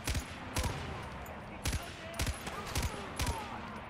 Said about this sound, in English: I guess it's a machine gun so much easier.